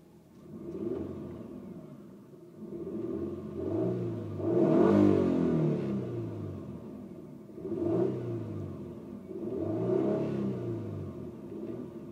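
A Dodge Stratus R/T engine revs several times in a row, each throttle blip swelling into a rumbling roar before falling back to idle, recorded fairly close with no talking.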